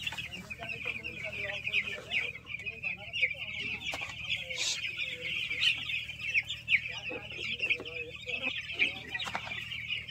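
Chickens on a 4,000-bird poultry farm cluck continuously in a dense, overlapping chorus, with scattered sharper calls and faint background clatter.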